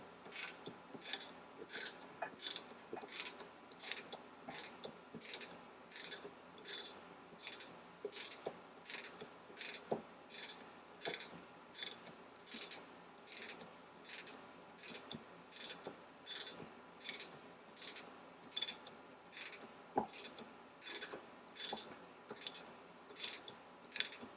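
A ratchet wrench tightens a rusty old bearing down until it bottoms out. It gives a steady run of sharp, regular clicks, about one a second, close and clear, with no talking.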